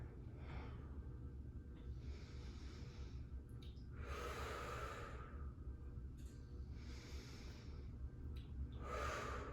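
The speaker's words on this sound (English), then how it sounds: "We'll take just 3 more breaths here." Slow, deep yoga breaths during a strength-focused sculpt pose: several long, airy inhales and exhales rise and fall in a steady rhythm, close and fairly quiet, with no talking.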